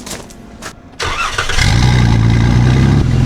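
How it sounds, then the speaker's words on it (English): A cheap used minivan's engine cranks and catches, then settles into a steady, loud idle that holds close by with no talking. "The idle evened out."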